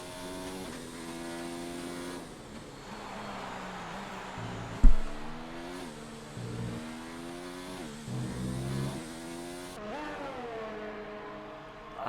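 F1 car engine from the F1 2019 video game on a lap of Silverstone on hard tyres, a high revving whine climbing and dropping through gear changes, with one sharp thump midway.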